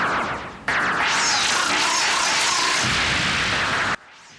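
Dalek gunfire in a Doctor Who episode, a loud sustained burst of harsh, crackling energy-weapon blasts lasting a few seconds before cutting off abruptly.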